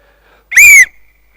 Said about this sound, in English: Don't go before the whistle.